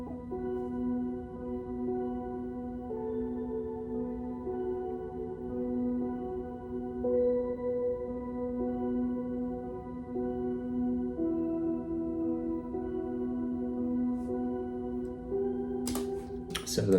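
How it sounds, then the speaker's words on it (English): Soft sustained piano pad from the Augmented Grand Piano Ice Piano preset, washed in reverb and delay, holding layered chords that shift slowly under a lo-fi bedtime beat, steady and moderately quiet throughout. "the plugin for that sound is the Augmented Grand Piano, and it is the Ice Piano preset"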